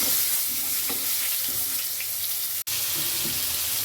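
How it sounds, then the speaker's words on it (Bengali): Small pieces of pointed gourd (potol) fry in hot oil for a Bengali potoler dorma, giving a steady close broadband sizzle with a few soft clinks and stirring sounds and no talking. "এবার পটলের ছোট টুকরোগুলোকেও আমি ভেজে নেব।"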